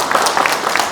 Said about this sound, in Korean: 군수님한테 큰 박수 좀 부탁드리겠습니다